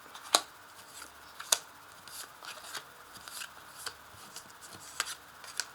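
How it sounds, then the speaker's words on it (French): Tarot cards laid out one by one on a table, giving soft slaps and rustling swipes at irregular intervals, close and quiet with no talking. "Alors, je place les cartes et je vous explique."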